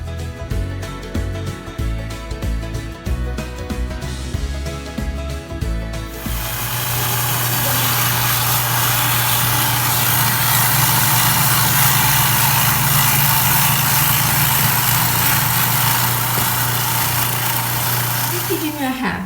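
A food grating machine starts up for Garifuna cooking and runs as a loud, steady motorized whine and grind. Irregular knocking and clattering come first.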